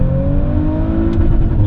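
A 2019 Range Rover SVR's 450 PS engine pulls hard through mountain-pass corners, a loud, steady in-cabin drone with rising harmonics as it revs, continuous and close with no talking.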